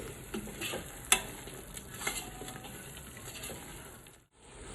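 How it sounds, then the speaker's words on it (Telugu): Biryani masala for Dindigul thalpakatti chicken biryani sizzles and fries on a medium flame while being stirred, with soft continuous frying hiss broken by occasional scraping and clinking spoon strokes, close up. "అడుగంటకుండా మధ్య మధ్యలో బాగా కలుపుతూ మంచిగా ఫ్రై చేసేసుకోవాలి."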